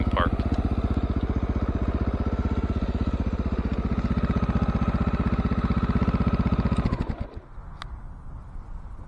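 A Honda XR650L dual sport motorcycle engine idles close by with a steady, loud thumping, then cuts off near the end, leaving quiet background.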